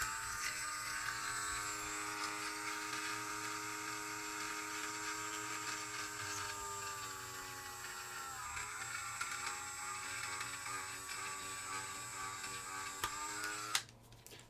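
A small power drill bores a pilot hole, slightly smaller than its screw, into the plastic body of an FCX24 Lemur RC truck. A steady, high-pitched whine runs for about fourteen seconds at close range and then cuts off abruptly.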